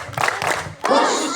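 Children at a pre-Ramadan gathering clap a rhythmic 'tepuk semangat' cheer, a few quick claps that swell into a short crowd shout at the end.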